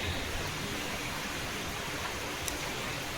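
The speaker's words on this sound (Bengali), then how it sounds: "কী সুন্দর বৃষ্টি হচ্ছে দেখো" Steady rain falls outdoors as an even, dense wash of patter that holds without change, with no speech over it.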